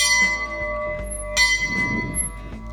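A small bell rings a few times, each strike clear and ringing out, with soft background sounds between.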